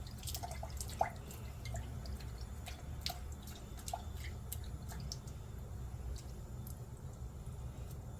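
Scattered water drips fall inside the engine bay of a pickup truck with a 5.3 engine, left wet after rain, a few clear drops ticking over a steady low rumble with no talking.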